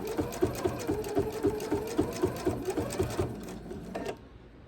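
Sewing machine stitching binding onto a quilt, a steady rapid needle rhythm running close and clear for about four seconds before stopping abruptly.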